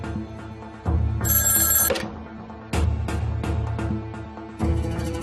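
A telephone rings in repeated bursts, each loud ring separated by short gaps, with a high electronic tone layered over the ringing; no voices.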